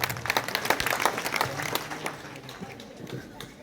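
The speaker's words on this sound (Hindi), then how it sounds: "जोरदार तालियों से आप स्वागत करें" Applause at an outdoor Congress party political rally as a former chief minister is welcomed on stage, a burst of crowd clapping that is loud at first and then thins and fades, with some talk underneath.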